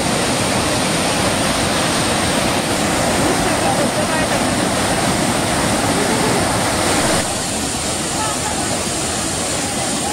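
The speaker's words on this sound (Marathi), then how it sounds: "प्रचंड प्रमाणात जोरात पाणी येतंय" Savatkada waterfall near Rajapur roars with a heavy, strong flow of water, a loud, dense and steady rush that fills the whole clip without a break.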